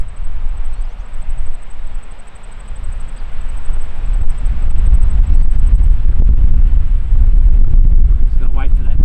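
Loud, steady low rumbling wind buffets the microphone outdoors during a hunt in Southland, New Zealand, a constant roaring blast with a faint high tone running through it.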